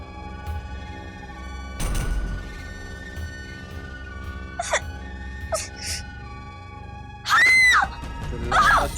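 A girl screams in a forest over dramatic background music, with a few sharp cries midway and two loud, drawn-out shrieks near the end.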